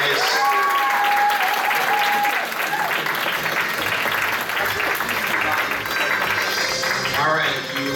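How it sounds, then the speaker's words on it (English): A convention audience applauds loudly and steadily throughout at a game-show panel, the dense clapping carrying on unbroken for the full length with a brief whistle-like tone near the start. "Oh, give a round of applause, guys"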